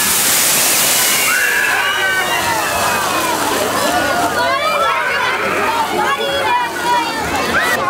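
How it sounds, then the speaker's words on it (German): At a fire brigade open day, a small glass of water thrown into a burning deep fryer triggers a loud, violent rushing whoosh of flaring fat, while an excited crowd shouts and chatters over it. "wenn man nur ein kleines Glas Wasser in eine brennende Fritteuse schüttet"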